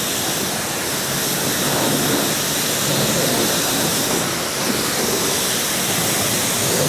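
A dirty coach being washed with soap and water at a car wash: a loud, steady hiss of spraying water runs without a break throughout, close and unbroken, with no talking.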